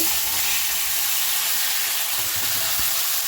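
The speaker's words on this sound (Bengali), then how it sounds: "ওই ডিম ভাজার তেলেই আমি দিয়ে দেব গরম মশলা জিরে তেজপাতা ফোড়ন" Whole garam masala, cumin, bay leaves and potatoes fry in hot oil left over from frying eggs, giving a loud, steady, close sizzle with faint crackles and no voices.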